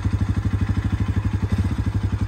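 A motorcycle engine idles steadily in first gear with a fast, even chugging pulse and light mechanical clatter, close and loud, with no talk over it.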